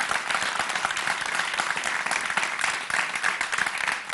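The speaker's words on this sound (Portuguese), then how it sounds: "Aplaudir o miúdo," A crowd gives dense, continuous applause for a young singer on a live show, many hands clapping together at an even level from start to finish.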